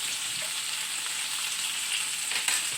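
Bacon and eggs fry in butter in a pan, giving a steady, close, bright sizzle and crackle with no voices.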